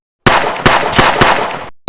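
Rapid bursts of loud gunfire, three or four sharp volleys in quick succession with no voices, ending in a brief fresh burst.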